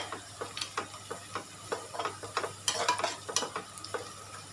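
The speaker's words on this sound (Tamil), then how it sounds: "வெங்காயம் நல்லா வதங்கி ஒரு பிங்க் கலர் வரணும், அந்த அளவுக்கு வதங்கினா போதும்" Onions sautéing in a pan while cooking Tamil-style kichadi, with a steady low sizzle broken by repeated soft stirring scrapes and clicks from a utensil, close by and with no voices.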